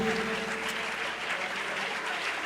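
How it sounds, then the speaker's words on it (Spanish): Church congregation clapping during a worship service at a convention, a dense, steady wash of applause filling the space throughout, with a voice faintly audible underneath. "Dele ese aplauso a Jesús."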